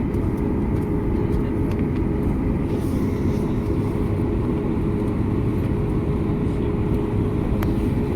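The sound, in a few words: airplane moving for takeoff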